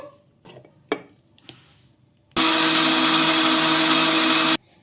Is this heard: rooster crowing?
no